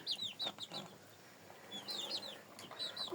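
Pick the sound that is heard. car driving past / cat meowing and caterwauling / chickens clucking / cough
chickens clucking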